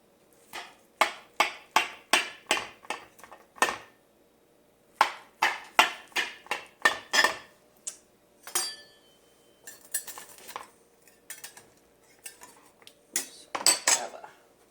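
Cutlery cuts into a hot taco pie that came out like bread, a run of sharp knife and fork taps and scrapes against a dish in uneven bursts, close up, with no talking.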